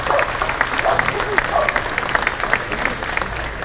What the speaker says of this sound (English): Please give him a little applause,